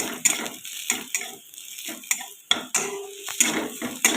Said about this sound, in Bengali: একটা কাঁচা লঙ্কা কুচি আর কয়েক কোয়ার রসুন কুচি এটাও একটু ভেজে নেব